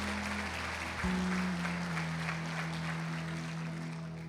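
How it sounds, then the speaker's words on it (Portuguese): A church congregation claps during a worship service, a soft wash of applause sitting beneath sustained keyboard or organ chords that shift pitch, steady and fairly quiet throughout. "Aplauda Jesus, aplauda,"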